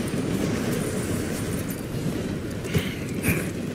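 A steam train rolls along steadily in Red Dead Redemption 2, a continuous low rumble with faint rail clatter and a couple of brief louder knocks, heard fairly close and without talk.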